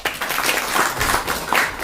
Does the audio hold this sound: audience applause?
yes